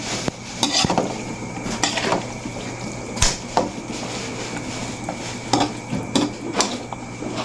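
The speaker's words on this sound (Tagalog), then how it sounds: "halo-haloin po muna natin" A spoon stirs sautéed buktit in a cooking pan, giving irregular scraping clinks against the metal over a soft background sizzle, close and alone.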